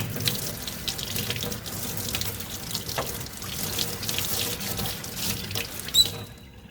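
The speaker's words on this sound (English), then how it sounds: "just bring it over to the sink and run cold water over it" Steady stream of cold water running from a sink tap while a laser-engraved metal light switch wall plate is rinsed under it, with a small squeak just before the flow cuts off.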